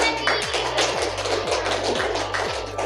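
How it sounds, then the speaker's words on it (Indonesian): A classroom group claps in a short round during a teaching lesson, a steady patter of hands close by with a rhythmic tapping underneath. "Ya, tepuk tangan lagi."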